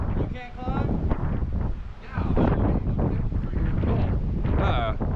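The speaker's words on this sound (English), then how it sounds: "It's windy right now." Strong wind buffets the microphone outdoors in gusty, rumbling bursts, loud and close, while people talk throughout.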